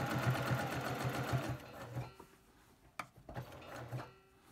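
Sewing machine stitching binding on a t-shirt quilt, a rapid rhythmic chatter in close bursts that stops partway, followed by quieter handling clicks and a sharp tap.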